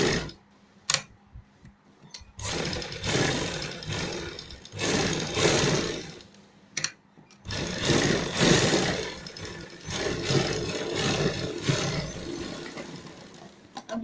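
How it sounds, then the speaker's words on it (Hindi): A sewing machine stitching fabric while a designer neckline is sewn, running in bursts of rapid rhythmic whirring with short pauses and brief stops between runs, close and fairly loud, with no talking. "अब आप यहाँ पे एक सिलाई लगा दीजिए इसको रोकने के लिए"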